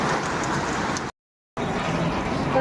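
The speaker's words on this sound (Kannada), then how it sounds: "ನೋಡಿ ಎಷ್ಟು ಜೋರು ಮಳೆ ಬರುತ್ತೆ ಯಾಕಂದರೆ ತುಂಬ ಕಾಡಿದೆ ಇಲ್ಲಿ" Heavy rain falls in a forested area beside a village resort in Punakha district, a steady, dense hiss that cuts out briefly partway through before resuming at the same strength, with no voices.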